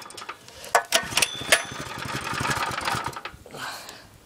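A Baja Warrior 196cc minibike engine runs just after starting, with a fast, close, buzzing putter that holds steady and then eases off near the end.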